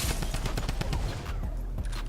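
Rapid bursts of automatic fire from a drum gun in Fortnite, a fast rattling stream of close, punchy shots for over a second before fading to a low rumble.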